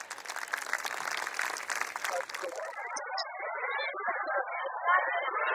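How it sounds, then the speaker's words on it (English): Applause from a school annual day audience greeting grade 1 and 2 children onto the stage, a dense wash of clapping that fades after a few seconds and gives way to a lower, steadier murmur. "Let's welcome them with a big round of applause."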